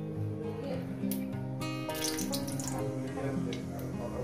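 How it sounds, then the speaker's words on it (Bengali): Dried red chillies crackle and spit in hot oil in a pan for a prawn and water spinach stir-fry, a close, dense sizzle with sharp pops throughout. "এবার আমি শুকনো লঙ্কাগুলো ফাটিয়ে দিয়ে দেবো"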